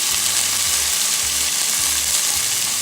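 Chicken and vegetables, including red pepper, sizzle steadily and loudly in a hot pan, a dense crackling hiss with faint low clunks of stirring.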